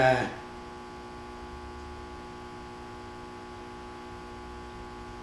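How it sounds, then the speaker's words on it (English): A battery maintainer beside a hard-cranking Murray engine gives a steady electrical hum after a brief louder start, holding level and fairly faint with no talk. "You can hear the maintainer kick on"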